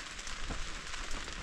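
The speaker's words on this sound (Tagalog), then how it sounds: "Mahina pa lang naman yung ulan," Light rain patters on a tarp at a wilderness motorcycle campsite as a typhoon approaches, a soft, close, even pattering with faint crackly drops, brief and steady with no talking.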